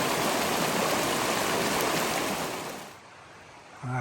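A mountain stream pouring through a waterfall swimming hole on a forest hike gives a loud, steady broadband rush up close, then drops away to a quieter hiss near the end.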